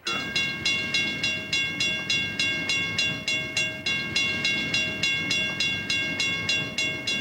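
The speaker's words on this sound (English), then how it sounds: "Train 110 pulls into the Cicero yard near Chicago." BN freight railcars roll into the Cicero yard near Chicago with a steady, rhythmic clatter of wheels over rail joints, repeating about every half second, loud and close.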